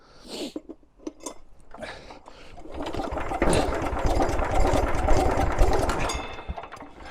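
Zarya 135 walk-behind tractor engine cranked with a geared starter, sputtering and knocking as it turns over and runs unevenly for a few seconds before fading, close by, with no speech over it.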